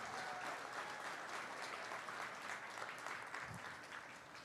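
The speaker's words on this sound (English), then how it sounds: "let's give this first group a round of applause." Spectators at a state fair cattle show for Brown Swiss feeder calves applaud, a dense, even wash of clapping heard faintly from a distance, tapering slightly toward the end.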